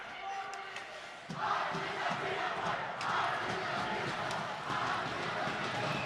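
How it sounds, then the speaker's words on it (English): A hockey arena crowd at a Creek versus Alter game chants and hollers loudly and continuously, a dense roar of voices swelling after a brief lull near the start. "I don't know what the crowd is chanting. I can't make it out, but boy, they're hooping and hollering"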